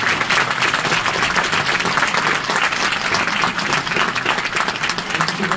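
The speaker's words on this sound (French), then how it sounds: "Donc applaudissez-les" An audience at a film festival opening ceremony claps for the jury, a steady burst of applause filling the hall from start to finish.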